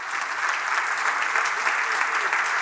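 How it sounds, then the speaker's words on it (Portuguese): Steady applause from a church congregation during a sermon on Psalm 91, dense continuous clapping that fills the space at an even level throughout. "pode aplaudir agora"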